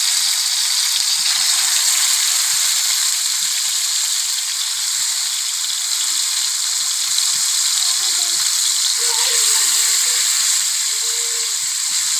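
Masala frying in a hot pan, giving a loud steady hiss and sizzle throughout with faint stirring scrapes underneath.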